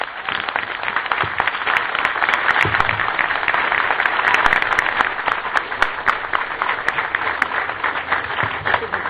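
Crowd applause at a public lecture in Tulancingo, a long, steady burst of clapping at a constant close level.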